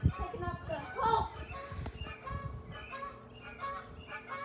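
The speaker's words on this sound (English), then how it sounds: "Oh, goes a couple of geese." A couple of geese honk outdoors near a park, several distinct calls in a short series, fairly close, with a person talking over them.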